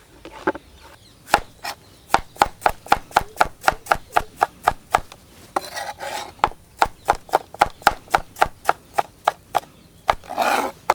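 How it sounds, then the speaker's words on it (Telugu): Knife slicing onions lengthwise on a cutting board for a plain Guntur-style biryani, a brisk run of crisp, evenly spaced chopping strokes with short scraping pauses between batches, close and clear with no talk. "ఉల్లిపాయలు ఈ విధంగా పొడవుగా కోసుకోవాలి."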